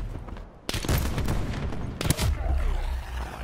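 Gunfire in Call of Duty Black Ops 4, a dense burst of rapid shots after a short lull, then a second sharp volley about a second later, loud and close, with no talk over it.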